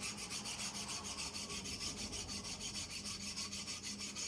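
A file rasps across a saw chain in steady, even strokes about five per second, close and continuous, with no voices.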